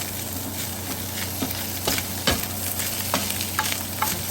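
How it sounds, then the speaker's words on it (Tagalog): Milkfish (bangus) flakes fry in melted butter in a pan, giving a steady close sizzle with occasional louder crackles and stirring scrapes. No one speaks. "So, pag nag-melt na, ilalagay na natin yung ating bangus flakes."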